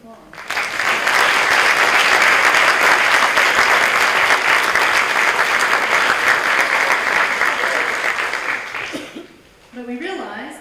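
Loud, sustained applause from a school orchestra concert audience fills the room for about nine seconds, with a few chuckles mixed in, then fades out as a voice begins.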